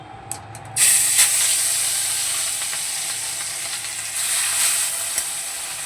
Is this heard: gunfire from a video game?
no